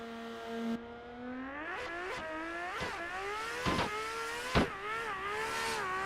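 A big drift car at a Pittsburgh drift competition qualifying run roars along the course, its engine rising and falling in pitch through revs and shifts, loud and continuous with sharp bursts.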